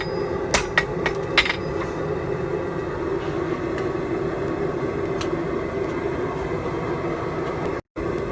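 A blacksmith hammers a forge weld on a basket twist, a few sharp metallic strikes ringing out early, then a steady low hum of the forge carrying on alone.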